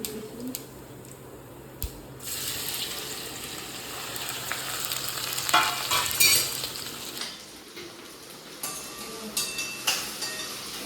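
Okra and potato curry frying in a pan with asafoetida and cumin, a steady sizzle with occasional stirring scrapes and clinks of a utensil, swelling louder midway.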